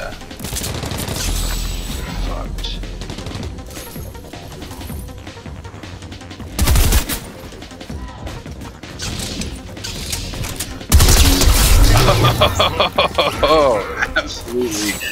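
Gunfire in the Fortnite video game, bursts of shots and crashing impacts mixed with game music and effects, loud and fairly continuous, with players talking over it.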